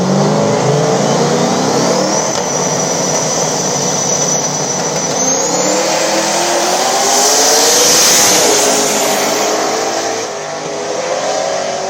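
Two small-tire no-prep drag cars, a turbocharged G-body and the Silverback S10, launch and roar down the strip together, a loud sustained engine and turbo howl that builds and peaks midway before easing off.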